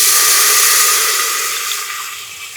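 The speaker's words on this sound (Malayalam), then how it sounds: "വെള്ളം ഒഴിക്കാം." Water pours into rice for biryani as a loud, close, rushing gush that thins slightly as the flow eases toward the end.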